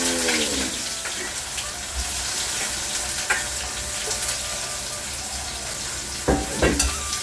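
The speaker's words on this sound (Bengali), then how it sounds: "চিকেনের জন্য যে পিঁয়াজগুলোকে কেটে নিয়েছি আগে, তো আপনাদেরকে দেখানো হয়নি, তো সেটাকে ভালোভাবে ভেজে নিতে।" Chopped onions for a chicken dish frying in a pan make a continuous close sizzle, with a few sharper clinks and scrapes of stirring near the end and no speech.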